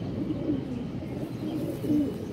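Pigeons in a loft cooing in low, rolling phrases that repeat and overlap, close by and fairly clear, with no talking.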